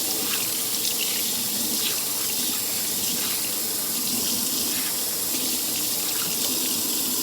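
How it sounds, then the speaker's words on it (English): Steady running warm tap water splashes continuously into a sink for several seconds while a trumpet or trombone mouthpiece is rinsed, close and even, with no voices. "when you're done with that, you just rinse it with some warm water"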